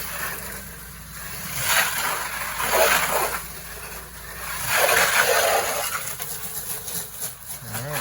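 Pressure washer spraying soap up onto house gutters, a broad rushing hiss that surges and fades in slow sweeps as the spray moves, close and fairly loud.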